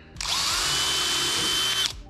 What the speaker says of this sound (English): So I'm gonna take a real small little drill bit. I don't wanna drill too much out